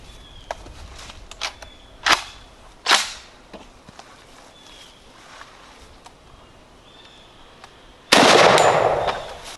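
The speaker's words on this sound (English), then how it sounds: "I'm gonna shoot the middle target." A JTS AK12 shotgun firing Winchester Defender double-lock 9-pellet buckshot: several sharp clicks and metallic clacks, then one loud booming shot near the end whose noise lingers briefly.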